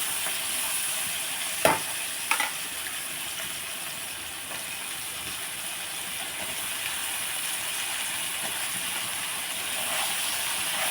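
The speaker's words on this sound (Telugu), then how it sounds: "మనం ఇలా కలిపేసుకుని ఒకసారి మూత పెట్టుకుంటే వంకాయలు కూడా బాగా మగ్గిపోతాయి" A pan of white brinjal curry hissing on the stove, a steady soft sizzle throughout with a couple of sharp utensil clinks early on and little other movement.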